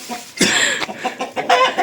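A rooster and a hen cluck and squawk nearby in a few short, loud bursts, with the rooster's harsher call among them.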